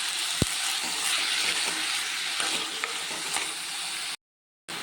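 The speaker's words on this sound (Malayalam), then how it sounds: "വഴുതന വേണ്ടിയിട്ട് നന്നായി ഒന്ന് വഴറ്റുക. അതിൻ്റെ കൂടെ തന്നെ നമ്മൾ ഈ ഉണക്കമീനും കൂടി ഇതിനകത്തോട്ട് നല്ല വഴറ്റിയെടുക്കണം." Brinjal and dried fish being sautéed in a pan give a steady, close sizzle with scattered stirring scrapes, broken by a brief silent gap near the end.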